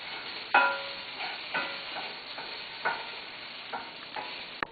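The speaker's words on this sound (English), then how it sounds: "the potatoes are sizzling really nicely in this hot pan" Potatoes sizzling in a hot pan over high heat, a steady hiss broken by periodic clatters and scrapes as they are tossed, close and moderately quiet.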